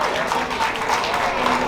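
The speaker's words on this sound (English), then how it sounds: "Let's give him a round of applause." Audience applause at an outdoor Puerto Rican flag raising ceremony in Paterson, a steady wash of clapping from a crowd, fairly distant and even, with no distinct voices rising above it.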